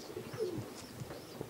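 Racing pigeons arriving at a loft after a young-bird race coo softly, with a few brief chirps and light flutter, fairly close and faint against quiet background.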